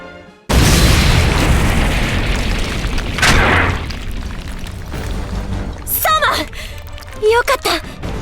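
A loud explosion blasts out in the Code Geass Lost Stories video game, a sustained roaring boom with a second burst mid-way, then rumbling decay under brief sharp effects and voices.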